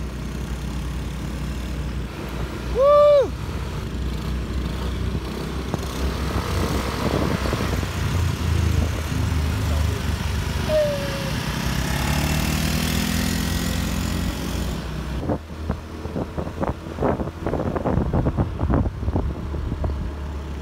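A vehicle drives along a road in the Philippines, its engine and road noise steady and fairly loud throughout, with a brief tonal whine early and a rougher, rattling stretch near the end.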